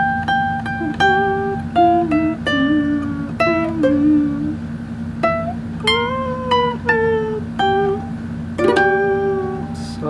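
Ukulele picks a fingerstyle phrase, single plucked notes and small clusters ringing over a low sustained hum, close and clear, no talk.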